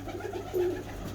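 A pigeon gives a single low, soft coo up close against a quiet background hum.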